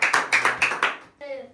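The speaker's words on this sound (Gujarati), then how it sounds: "તાળીઓ કાઢજો ભાઈ નૈતિકભાઈ" A small group claps for the winner of a guess-the-drink challenge, about five quick bursts of close, crisp applause in an uneven rhythm, followed by a brief voice.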